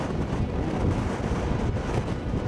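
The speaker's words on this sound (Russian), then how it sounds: "Сильный ветер" Strong wind buffets the microphone in a steady, loud roar with low rumbling gusts throughout, with no voices.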